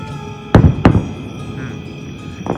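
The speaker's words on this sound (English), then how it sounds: "normally we would get the drone up to watch fireworks, but way up here on top of the mountain, you don't have to." Fireworks set off below a Smoky Mountain summit give two sharp, booming bangs half a second apart, then a fainter pop near the end, heard from a distance.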